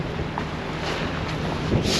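Steady, loud wind buffeting the microphone on the Humber estuary while sea fishing, a continuous roaring rumble with no voices.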